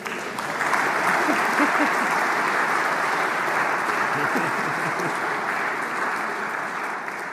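A large audience applauds at the draw ceremony for the EHF women's handball European Championship in Austria, a steady, dense wash of clapping lasting the whole stretch after a brief quiet start.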